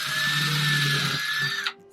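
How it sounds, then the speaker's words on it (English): A power drill bores a small hole into the top of a decorative block with a steady, high whine, loud and close, that stops abruptly near the end. "we are going to drill a small hole in the top"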